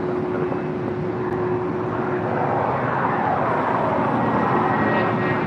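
A Hawker 125 business jet departing for Los Cabos, its engines a steady, loud broadband roar with a sustained tonal whine throughout, no voices present.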